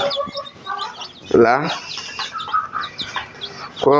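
Chicks peep and hens cluck close by in a busy, overlapping chorus, with a person speaking now and then.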